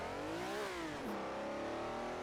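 A car engine on the Targa Florio road circuit revs hard past about 7,000 RPM, the pitch climbing, dipping sharply at a shift, then rising again, loud and close throughout.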